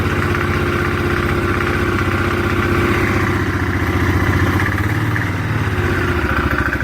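A Polaris Sportsman 500 ATV engine idles too high, loud and nearby with a fast, even putter and light mechanical clatter, the pitch dipping slightly near the end.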